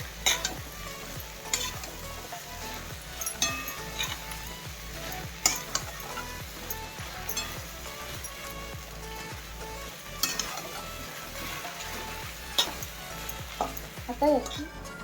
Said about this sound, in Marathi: या स्टेजला आपण हे स्वच्छ धुवून काढलेले चुरमुरे घालणार आहोत. आणि छान परतून घेणार आहोत.